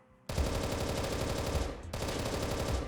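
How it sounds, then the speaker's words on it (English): Sustained automatic fire from an M16A1 rifle fitted with a foregrip in the video game Apocalypse Rising 2: a loud, continuous burst of rapid shots that starts abruptly, breaks for an instant, then resumes. "let's test out the recoil with the foregrip on the M16A1"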